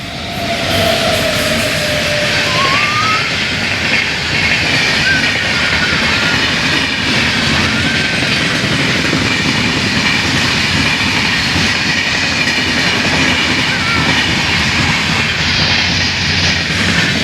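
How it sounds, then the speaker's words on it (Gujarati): A loud, continuous rumble of a train passing nearby, with a sustained roar and faint rattling and squealing over the whole stretch. "ટ્રેન આવે છે તો જો હું તમને દેખાડું. આ છે ટ્રેન."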